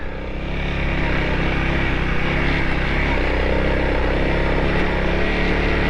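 A Honda CRF300L motorcycle engine drones steadily while riding, a loud continuous roar with wind rush, close to the rider throughout.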